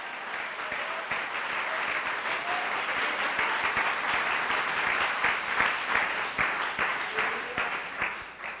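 Congregation applauding together in a church, a dense, steady wash of hand claps holding at a consistent level throughout with no gaps.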